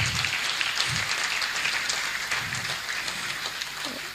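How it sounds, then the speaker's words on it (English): An audience applauds at a talk on leadership and economic growth, a steady, fairly loud wash of clapping that runs through the whole moment with a few low voices mixed in. "Can we please give him another round of applause?"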